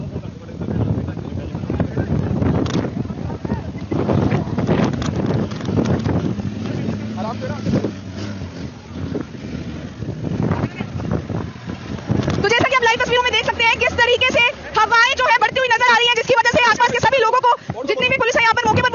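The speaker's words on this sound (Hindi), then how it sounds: "कितनी ज्यादा भयानक हवा चलती हुई और आग लगातार फैलती हुई" Strong wind roars over farm fields of crops and straw burning in a spreading blaze, with heavy continuous buffeting on the microphone. Someone talks over it throughout, and the gusts grow harsher in the second half.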